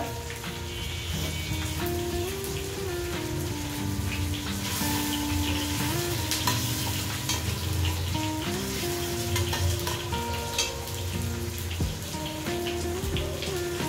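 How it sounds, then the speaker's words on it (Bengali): Spice paste sizzles and crackles steadily as it fries in a cooking pot, a continuous close hiss with occasional stirring, while quiet background music plays underneath. "মশলাটাকে কষিয়ে তারপরে সবজিটা দিয়ে দিব।"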